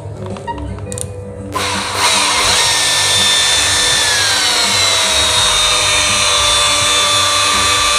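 A polishing machine at low RPM spreads polish across the body of a Kawasaki ER6n motorcycle, starting abruptly and then holding a steady, loud whirring drone with no talk.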